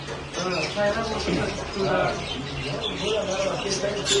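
Busy market crowd with chatter, and scattered bird chirps and squawks rising through the noise.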